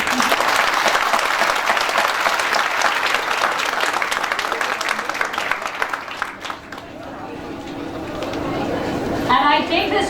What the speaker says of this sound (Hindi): एक बार जोरदार तालियों के साथ स्वागत कीजिए।